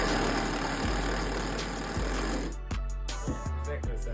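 Hikoki T-power and Makita 40-volt impact wrenches run in a side-by-side test, a loud continuous motor whine that gives way to sharp repeated hammering impacts toward the end, with no speech.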